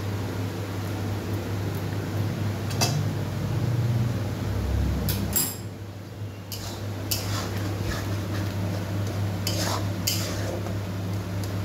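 A spoon scrapes and clinks against a pot while potatoes and taro are stirred with spices for a kochur dom, with soft rhythmic stirring over a steady low hum and a few sharper metallic knocks.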